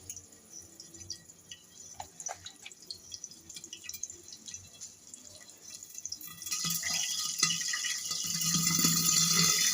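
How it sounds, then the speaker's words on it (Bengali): Chili peppers fry in a pan with turmeric-coated ingredients, starting as scattered pops and crackles that swell into a dense, loud hissing sizzle partway through, close by with no talk. "লঙ্কার আওয়াজ হচ্ছে"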